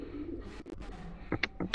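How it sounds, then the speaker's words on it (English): A pigeon coos in Garry's Mod with a few soft, throaty coos over low background noise, followed by several short, sharper bursts near the end. "The pigeon's still on me when I'm a ragdoll!"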